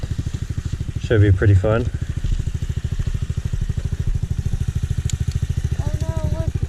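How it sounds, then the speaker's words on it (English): Amazon pit bike engine running steadily with a low, throbbing rumble throughout, close by, while a voice talks briefly over it. "we got the pit bikes out. We're gonna go take them on their first ride."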